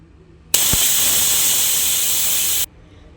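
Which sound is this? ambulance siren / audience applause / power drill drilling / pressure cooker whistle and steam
pressure cooker whistle and steam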